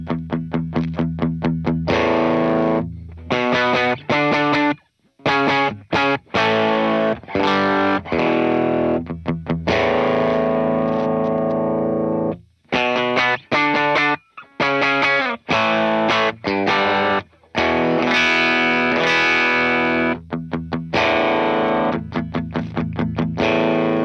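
Driven electric guitar through a Benson Preamp pedal with its bass EQ raised, a long passage of choppy chords and riffs broken by short pauses, full and loud with no speech.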